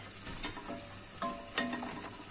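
Vegetables sautéing in a pan for an olive-oil artichoke dish, giving a soft, steady sizzle with a few brief stirring scrapes and clatters, fairly quiet, with no voices.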